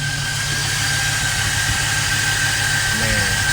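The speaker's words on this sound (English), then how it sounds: "This engine running incredible." A Chevy Express van engine idles steadily with a constant low rumble and a faint whine, running smoothly throughout.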